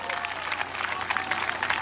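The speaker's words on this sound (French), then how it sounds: "on va leur transmettre vos applaudissements, vos félicitations" Steady, dense clapping from a crowd at an outdoor environmental protest rally, an even crackling wash of applause lasting a couple of seconds, with voices mixed in underneath.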